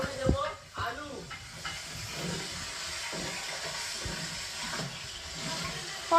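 Potatoes go into a hot cooking pan and hiss with a steady sizzle, heard under a voice talking over it, with a few clinks near the start.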